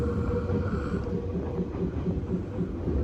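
A fish-themed train at Kada in Wakayama rumbles along steadily with a rhythmic clatter of wheels over rail joints, heard close and continuous with no voices.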